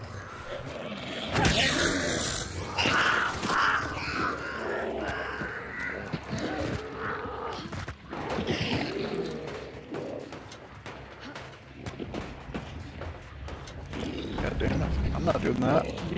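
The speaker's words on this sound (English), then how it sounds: "God, so many birds." Crows and other birds caw and coo continuously across an outdoor map in the video game Hunt: Showdown. The dense, fairly loud calls run throughout while players talk over them.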